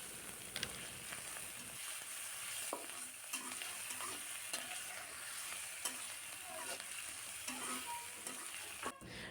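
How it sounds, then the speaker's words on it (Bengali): Onion paste and garlic paste fry in a pan of oil with whole cumin and bay leaves, giving a steady close sizzle broken by regular scrapes and clinks of a stirring spoon. "এখন পেঁয়াজ বাটা, রসুন বাটা দিয়ে 1 মিনিটের মতো ভেজে নিব।"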